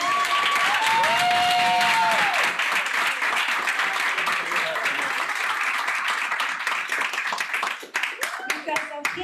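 Audience applause at a talk, clapping that is strong at first then thins toward the end into scattered claps, with voices and cheering mixed in at the start and close.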